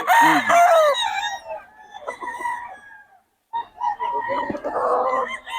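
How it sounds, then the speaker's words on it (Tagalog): At a market in Bocaue, Philippines, a rooster crows loudly up close, followed by scattered clucking and farmyard bird calls. "boss Joey, magkano manok natin?"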